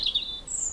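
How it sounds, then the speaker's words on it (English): Brief high chirping notes from a male blackbird singing on a golf course, faint and fairly distant over a soft outdoor background. "Blackbirds look for worms in the short grass, and the male will often sing to maintain his territory"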